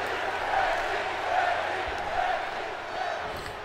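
Crowd noise in a WWE 2K22 wrestling arena cheering for Becky Lynch, a broad sustained roar with rising and falling chant swells, steady and distant-sounding.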